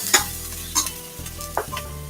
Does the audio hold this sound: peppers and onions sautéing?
yes